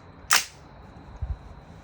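A single sharp rifle shot cracks out from an AR-style rifle fitted with a modified Dirty Bird trigger and an H2 buffer. It is loud and close, followed by a faint low thump and steady background noise.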